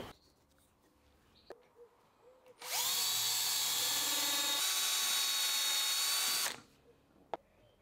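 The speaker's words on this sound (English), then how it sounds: "so I just need to find the centre of this dowel, drill a pilot hole," A power drill bores a pilot hole into the centre of a wooden dowel during a workbench upgrade, running loud and steady for about four seconds after quiet workshop shuffling.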